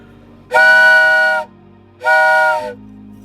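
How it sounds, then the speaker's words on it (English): Two loud steam whistle blasts from a train, the first held about a second, the second shorter, each a rich, sustained chord-like tone. "The Polar Express let out a loud blast from its whistle"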